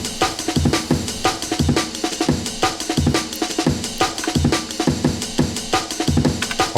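An Amen break drum loop programmed on an Elektron Analog Rytm drum machine, fast choppy breakbeat with busy snare and kick hits and constant cymbal wash, loud and dense, repeating steadily throughout.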